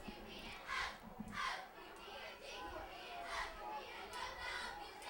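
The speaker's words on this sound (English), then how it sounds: "They're just cheering their little hearts out." Cheerleaders at a high school football game chant in rhythmic bursts, about five rising shouts in a row, heard from a distance over crowd murmur and faint voices.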